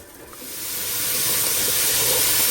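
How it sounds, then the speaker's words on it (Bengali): Shrimp frying with spices in a home kitchen pan gives a steady, close sizzling hiss that swells during the first second and then holds strong, with no voices. "চিংড়িটাতে সব স্পাইস দিয়ে একটু কষে নিচ্ছি, আমি ফ্রাই করে নিচ্ছি"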